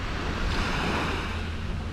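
Ocean surf off Koh Samui, Thailand, roars as a steady wash of breaking waves, with gusty wind rumbling over the microphone and no voices.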